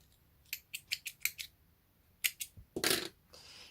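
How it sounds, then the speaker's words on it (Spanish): Scissors snipping crochet yarn: a quick run of sharp metallic snips, a pause, then a few more close cuts ending in a rustle, quiet room with no voices. "Cortamos la hebra."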